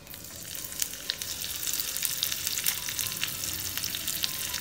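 Urad dal and chopped chilies sizzling in a hot pan with mustard seeds for masala dosa filling, a steady close crackle of frying with scattered sharp pops throughout.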